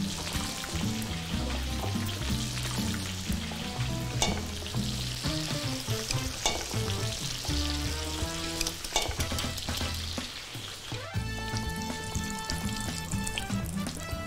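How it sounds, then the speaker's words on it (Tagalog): Potato cheese croquettes drop into preheated oil for deep frying, setting off a steady, busy sizzle and crackle that carries on throughout, with faint clinks and stirring. "So, 4 muna ilagay natin sa ating deep fried mantika."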